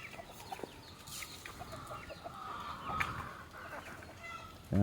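Rooster crowing and native chicken clucking outdoors at moderate distance, a few calls over quiet background noise, ending with a sudden louder thump.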